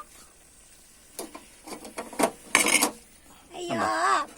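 Chicken for a fry stirred on a stone pan over a makeshift fire, soft sizzling with scraping and clattering stirs, broken by a voice speaking nearby.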